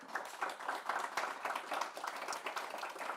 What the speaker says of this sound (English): How about a round of applause for our panelists?